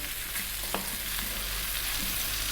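Chopped garlic frying in a pan for bacon spinach creamy pasta, kept moving constantly: a steady dense sizzling hiss with soft scrapes and taps from the stirring utensil, close and continuous without talk.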